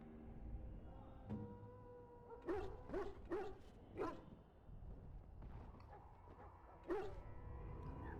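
A dog in the game Dragon Age: Origins gives a cluster of four quick barks, then a fifth bark a few seconds later, moderately loud over a steady low game ambience.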